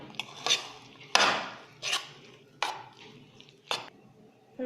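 A spoon works mayonnaise into a vegetable filling made with banana flower, giving a series of about seven separate clinks and wet scrapes against the bowl, spaced roughly half a second apart, close and fairly quiet, with no talking.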